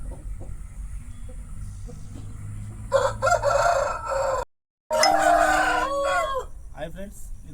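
A rooster at a farm selling cockerels crows loudly and close by. A drawn-out crow rises over a dim background and then repeats after a brief gap.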